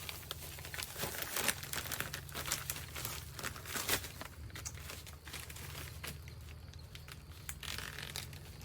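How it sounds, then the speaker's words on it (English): A plastic bag crinkles and rustles close up as a beef brisket is slid into it, sharp irregular crackles over a low steady hum. "we'll go ahead and put this in a plastic bag here"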